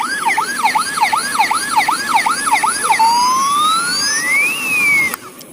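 A toy ambulance's bright electronic siren wails in a rapid repeating warble, then switches to a slow rising and falling tone before cutting off with a click.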